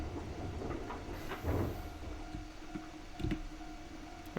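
A JR West 105 Series train brakes in a nighttime train simulator game on the Wakayama and Sakurai Lines, with rain falling: a low rolling rumble, scattered clicks and clacks, and short bursts of hiss.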